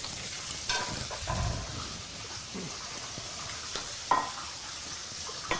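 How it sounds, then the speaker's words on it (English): Breaded fish frying in oil, a steady crackling sizzle with occasional louder pops and stirring noises, fairly close and continuous. "All right, so we're ready to fry."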